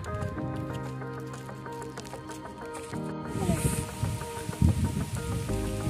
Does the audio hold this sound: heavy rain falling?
yes